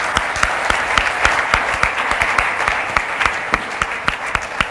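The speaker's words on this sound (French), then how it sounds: "Vous pouvez l'applaudir." An audience claps as a guest speaker walks onto the stage at a real estate seminar, with steady, dense applause and a few sharper individual claps standing out throughout.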